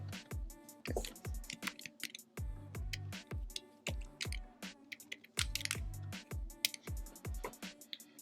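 Rapid, uneven keystroke clicks tapping away close by, with short bursts and brief pauses, no voices.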